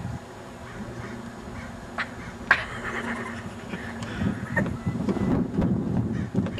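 Geese or ducks honking and quacking outdoors, a flock of fowl calling in a busy overlapping chorus that grows louder toward the end, with faint background noise.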